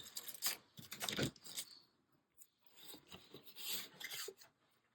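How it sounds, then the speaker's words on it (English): A pencil scratches out a name on paper or a label in quick, raspy strokes, close up, with short pauses between bursts and no talking. "Oh, let me write her name on this."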